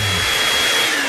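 A hair dryer blows in a continuous loud broadband whoosh, steady and close throughout with no pauses, and no voices over it.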